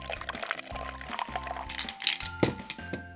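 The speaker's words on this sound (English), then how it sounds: "Let's pour it into a cup." Fruit smoothie poured into a cup, a close glugging, splashing pour with uneven bubbling gurgles that rise in pitch as the cup fills.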